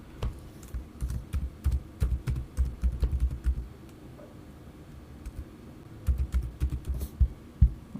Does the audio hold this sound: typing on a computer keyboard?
yes